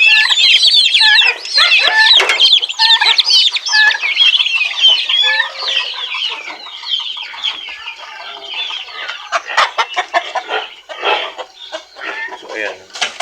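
Many turkeys and chickens clucking and chattering together in a dense, busy flock, loud and close, thinning into scattered calls toward the end.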